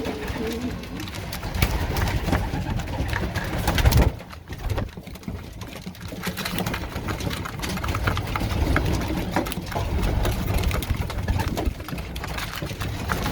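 Young racing pigeons coo softly in a loft at weaning age, a steady low murmur of overlapping calls with a brief lull partway through, over a faint engine-like background hum.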